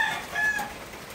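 Raptor gamefowl in a brooding pen on a breeding farm, a few short high clucks and calls from nearby birds over a quiet outdoor background, no talking.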